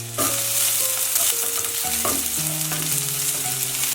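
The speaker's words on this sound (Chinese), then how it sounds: "油热放入小米辣和蒜末" Sliced bird's-eye chili and minced garlic drop into hot oil and fry with a loud, dense sizzle that holds steady throughout, with a tonal melody running faintly underneath.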